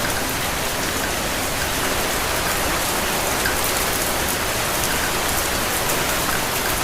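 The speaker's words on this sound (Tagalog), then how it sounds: "lumalakas na naman yung ulan" Heavy rain pours steadily at close range, a dense, unbroken hiss of drops drumming on surfaces with no break or voices throughout.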